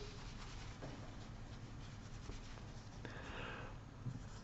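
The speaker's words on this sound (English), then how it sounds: "we'll go ahead and erase this." Writing being erased on a board during a math lesson: faint, steady rubbing and scrubbing strokes, soft and continuous, with a slightly brighter swipe toward the end and no talk.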